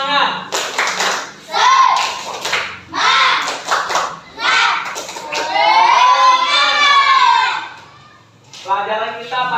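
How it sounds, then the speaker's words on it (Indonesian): Schoolchildren in a classroom perform a rhythmic clapping routine, bursts of claps mixed with loud chanting voices throughout. "kita tepuk semangat dulu biar tambah semangat"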